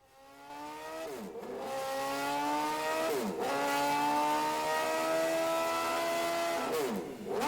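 A PGM motorcycle engine accelerating hard at full throttle, its rising whine swooping up through repeated gear changes in a continuous, loud run, with no voices.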